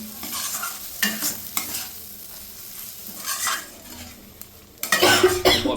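Spice paste for vegetarian potol posto being stir-fried in a pan over a low gas flame: repeated scraping spatula strokes over a soft, steady sizzle, with a louder, busier burst of stirring near the end.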